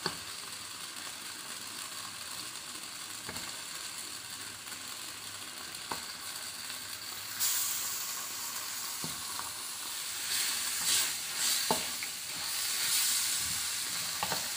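Chicken pieces frying in yellow spice paste for ayam ungkep, a continuous hiss of sizzling oil with occasional utensil knocks as it is stirred, the sizzle surging louder midway and again near the end.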